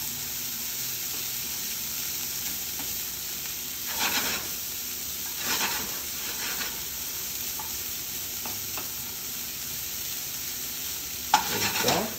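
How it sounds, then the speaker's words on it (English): Food sizzling in a pan while cooking, a steady crackling fry across the whole stretch, broken now and then by brief louder bursts as it is stirred, with no talking. "Just gonna let it cook for about 1 minute."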